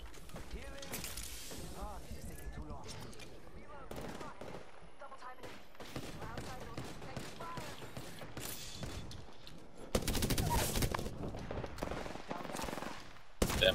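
Rapid automatic gunfire and bursts of shots in the battle royale game Apex Legends, with mechanical clicks and reload sounds under excited talk from players, growing louder and denser near the end.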